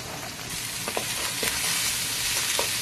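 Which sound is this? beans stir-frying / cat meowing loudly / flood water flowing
beans stir-frying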